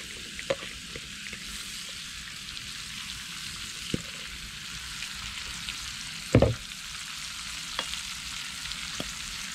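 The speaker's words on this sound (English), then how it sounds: "add some little bit of oil in your pan, and then add the onions" Onions fry in a little oil in a pan while cooking a Big Mac casserole, a soft steady sizzle with a few clinks and scrapes, one louder knock partway through.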